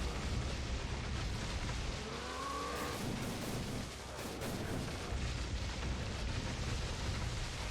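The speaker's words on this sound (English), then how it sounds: "Explosions on the other side can't hurt me." Explosions in God of War: a continuous low rumbling barrage of booms and blasts, moderately loud, with a brief whooshing swell and a dip before the roar resumes.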